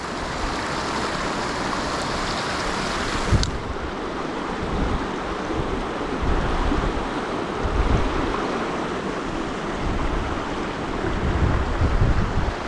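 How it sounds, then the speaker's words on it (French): Steady wind rushes and buffets the microphone beside a river during trout fishing, a continuous loud roar with gusty swells blending into flowing water. "En plus il y a le vent."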